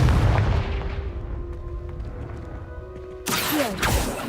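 Confringo fire spell blast in Hogwarts Legacy, a sharp booming burst that hits near the end after a fading rumble from an earlier impact.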